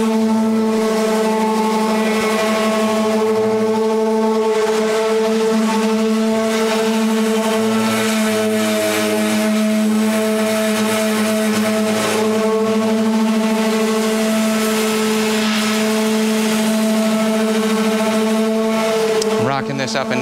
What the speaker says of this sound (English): Ignition on.